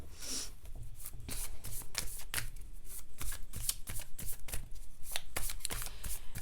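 A deck of tarot cards being shuffled by hand, a rapid run of crisp riffling flicks and slaps, close and fairly quiet, with no voices.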